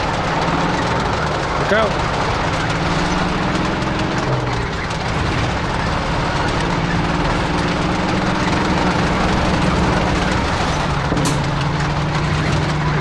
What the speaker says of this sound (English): Look out, tank coming through.